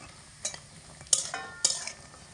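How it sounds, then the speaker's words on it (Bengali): Dried soybeans fry in hot oil over low to medium heat, a faint sizzle punctuated by three sharp scraping stirs of a utensil against the pan. "গরম তেলের মধ্যে সয়াবিনগুলোকে দিয়ে দেব লো টু মিডিয়াম আঁচে রেখে সয়াবিনগুলোকে হালকা লাল করে ভেজে নিতে হবে"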